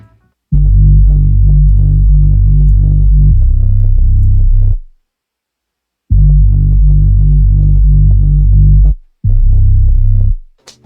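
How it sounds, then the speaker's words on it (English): A liquid Reese bass synth patch made in FL Studio for liquid drum and bass, booming loud and close in long sustained, slowly throbbing notes that cut off into brief silences between phrases. "It's a liquid Reese bass"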